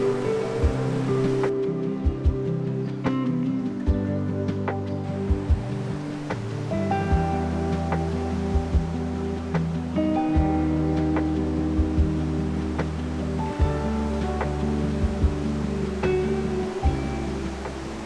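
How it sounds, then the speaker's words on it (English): River water rushes and churns steadily as it pours under a bridge in Thun, Switzerland, forming standing waves, a loud continuous roar with no voices. "in summer you might see surfers riding these waves created by the water passing under the bridge"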